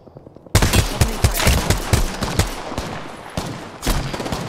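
Gunfire in Wraith gameplay from an online battle royale shooter, a sudden loud burst of rapid repeated shots followed by several further volleys, close and dominant.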